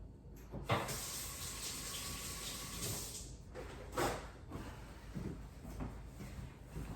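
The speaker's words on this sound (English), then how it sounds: "Wash my hands." Hands being washed under a running kitchen sink faucet, with a soft, steady water rush that swells and dips as the hands move through the stream. The sound is fairly quiet and close, with no talking.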